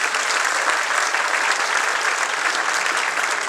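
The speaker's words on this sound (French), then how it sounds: "je vous prie d'applaudir quand même" An audience applauds a shy young girl performer at a mountain village gathering in Haute-Savoie, dense even clapping that stays loud and steady from start to finish.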